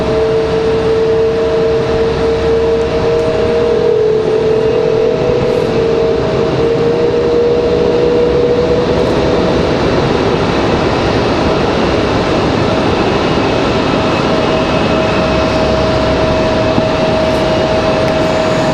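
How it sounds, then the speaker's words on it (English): Boeing 777 jet engines spool up at Raleigh-Durham International Airport, roaring loudly and steadily while a high whine slowly shifts pitch, a continuous rumbling drone that stays close throughout. "Engines spooling."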